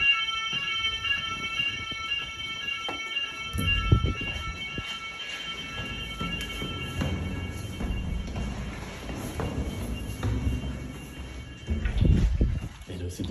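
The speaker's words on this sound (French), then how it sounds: "On se retrouve avec une alarme feu." A Siemens fire alarm sounds in a nursing home as a steady, high, ringing electronic tone through the whole stretch, with footsteps, handling noise and a person talking underneath.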